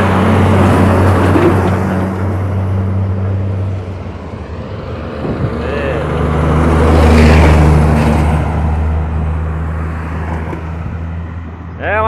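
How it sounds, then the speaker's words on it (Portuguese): Heavy trucks rumbling past on a highway in Bahia, Brazil, deep engine drone swelling and fading as vehicles pass close by, with a brief air-brake hiss near the end and people talking over the traffic. "É uma carrada de caminhão, viu?"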